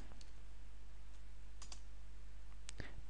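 Keystrokes on a Windows computer keyboard as a command is entered, a few soft, sparse clicks over a low steady hum, quiet and close with no talk.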